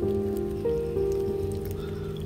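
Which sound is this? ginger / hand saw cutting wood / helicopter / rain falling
rain falling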